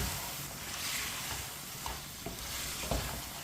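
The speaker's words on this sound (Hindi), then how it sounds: "मटर को भूनना नहीं है, चिकन में डाल के मिक्स करना है।" Green peas are mixed into chicken in a pan, a close, loud, continuous sizzle with scraping stir strokes and a few soft knocks from the spoon.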